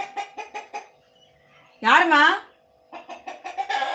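A chicken calls out in one loud wavering squawk between bursts of close, clear speech.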